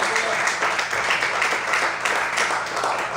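Congregation in a church claps in praise and worship, a broad, continuous wash of many hands that stays loud and even throughout.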